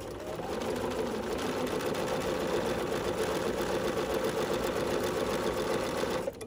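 A sewing machine runs continuously stitching quilt pieces along a quarter-inch seam, a steady close mechanical whir with rapid even needle rhythm from start to finish, stopping at the very end.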